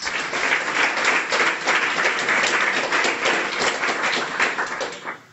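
Audience at a Guiding Eyes guide dog graduation claps in a warm, dense round of applause that holds steady and then tapers off at the end.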